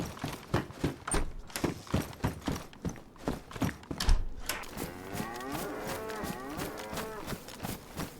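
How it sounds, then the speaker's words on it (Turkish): Cattle in the survival game DayZ moo in a drawn-out, wavering call that fills the second half, preceded by rhythmic hoof-like clopping footsteps in an open outdoor game world. "Şu ineklerden birisini vuralım da ileride işimize yarar."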